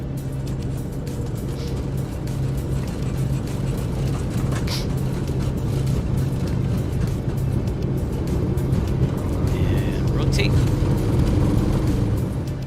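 Flight simulator aircraft engine at full throttle during the takeoff roll, a steady loud droning hum with a low tonal rumble throughout, while someone talks over it now and then.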